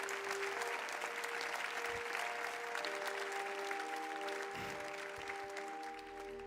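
An audience at the opening of the 2021 Frankfurt Book Fair applauds steadily to welcome Karin Schmidt-Friedrichs and Jürgen Boos, over a faint sustained hum, tapering toward the end.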